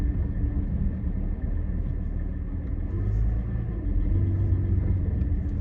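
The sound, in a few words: Porsche 718 Cayman GT4 engine idling, warming up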